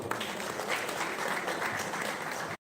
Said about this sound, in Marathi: सर्वांचं टाळ्या वाजून स्वागत करू आपण